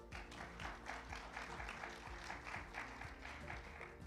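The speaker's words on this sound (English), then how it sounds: "Applause, please." Audience at a conference applauding an award for a speech, a steady wash of many hands clapping, fairly faint and distant, with no talk over it.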